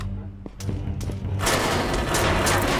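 .50 cal machine gun fire in the PC game Close Combat First To Fight, a loud sustained burst of rapid heavy shots rising into a dense roar of gunfire and booms.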